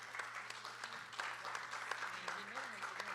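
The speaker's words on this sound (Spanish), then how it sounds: "Un fuerte aplauso para doña Adriana, por favor." Audience applause at a Costa Rican government side event on environmental tax spending, steady clapping from a moderate crowd running throughout, with voices faintly underneath.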